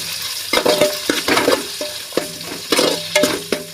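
Garlic, green chili and curry leaves sizzle and fry in a pan while a spoon stirs and scrapes repeatedly, with sharp crackling bursts and metallic clinks coming in uneven clusters, close and fairly loud.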